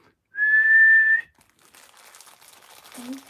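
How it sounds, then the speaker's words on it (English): A person whistles one steady sustained note for about a second, close and clear, followed by soft rustling and a short low hum. "That was a low whistle, though."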